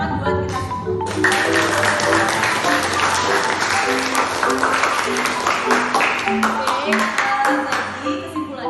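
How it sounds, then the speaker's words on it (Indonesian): Students applaud in a chemistry classroom. The clapping is sustained and moderately loud for several seconds, and a voice speaks briefly before it begins. "Oke, boleh tepuk tangan buat kita semua."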